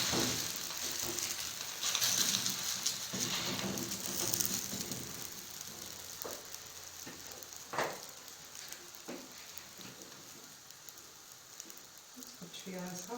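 Onion flatbread frying in a hot pan brushed with oil, giving a steady dense sizzle like rain that fades slightly over time, with occasional soft taps and a voice talking over it.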